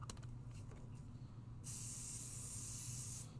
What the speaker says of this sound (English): We're going to hit it with a little bit of pixie spray.